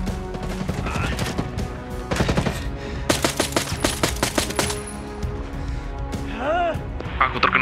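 A firefight in a military survival video game between army troops and armed fighters: rapid machine-gun bursts and single shots crack close by, mixed with voices talking and other game sounds.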